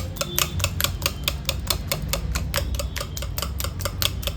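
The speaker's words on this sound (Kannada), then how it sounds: "ಒಂದು 4 ನಿಮಿಷ ಚೆನ್ನಾಗಿ ಬೀಟ್ ಮಾಡ್ಕೊಳ್ಬೇಕು." Instant jalebi batter, thinned a little beyond idli batter consistency, is beaten briskly in a bowl, making a steady, fast train of sharp ticking taps, close and even in rhythm throughout.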